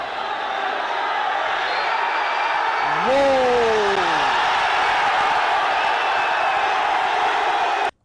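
Huge crowd of over 10,000 people gathered outside in Peru, chanting a streamer's name as a steady, dense roar throughout, with a voice exclaiming briefly over it near the start.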